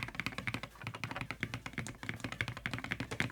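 Keychron P6 Ultra mechanical keyboard with swapped switches, typed on in a quick, steady stream of close, crisp clacks with no talking.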